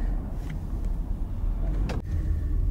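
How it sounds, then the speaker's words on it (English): Road noise inside a moving Tesla car, a steady low rumble with a faint whine and a brief bump or thud near the end. "So hopefully my car isn't too loud and noisy and car-like."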